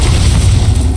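In Hogwarts Legacy, a Confringo blasting spell lands with a loud, deep, booming explosion that fills the whole second.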